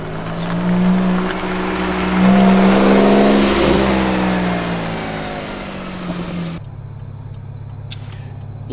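A Porsche 911 Turbo S engine with a dual-clutch transmission accelerates hard, its loud close rising roar climbing in pitch before easing, then cutting abruptly to a quieter steady drone; no talking.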